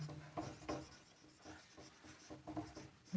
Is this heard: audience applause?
no